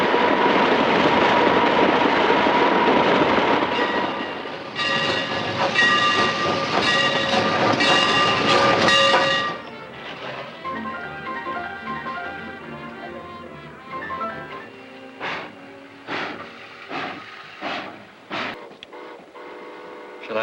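A train rolling along the rails in a 1951 film scene, a steady loud rumble with a whistle-like tone that gives way to quieter rhythmic clacking and knocks of the wheels, all without talk.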